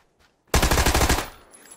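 A Tommy Gun in PUBG fires one quick automatic burst of about eight rapid, evenly spaced shots, loud and close, lasting under a second and then fading into a short echoing tail, with no talking.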